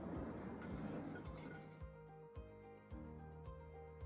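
Cake batter ingredients, including sugar and vanilla sugar, being mixed in a bowl, with a utensil clinking repeatedly against the sides in an irregular rhythm, close up and fairly quiet, with no talking.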